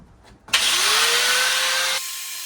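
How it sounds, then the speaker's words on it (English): Angle grinder with a grinding wheel cutting metal on a van build, a sudden loud high-pitched whine that spins up, holds for about a second and a half, then drops away as the cut ends. "I think I'm going to keep going with the grinding wheel"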